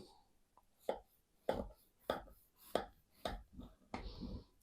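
A knife cuts through a closed meat-filled pie, giving about seven sharp, evenly spaced chops and thuds on a plate or board, close and distinct with no talking.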